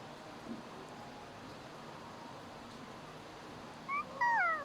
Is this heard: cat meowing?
yes